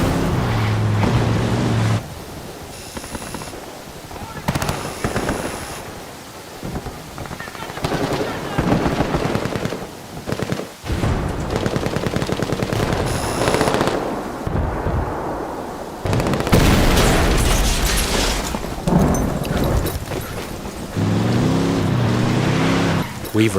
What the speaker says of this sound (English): we blow that C4 we placed earlier